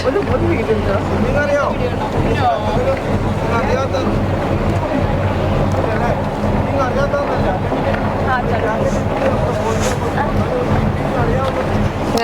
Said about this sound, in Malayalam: നമ്മുടെ ബോട്ട് അടുപ്പിക്കാൻ പോകണം.